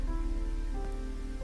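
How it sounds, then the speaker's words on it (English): Rain tapping softly on a glass ceiling overhead in a quiet reading room, a steady gentle patter with a faint sustained hum beneath it, no voices. "Rain tapped softly overhead."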